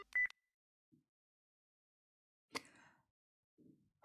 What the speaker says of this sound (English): The phone call cuts off abruptly.